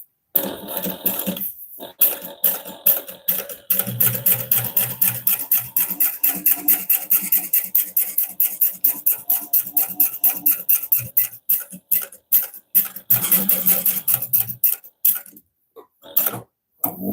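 A sewing machine stitches a fabric bag in steady, rapid bursts of mechanical ticking, close and loud, running in long runs with short pauses between them.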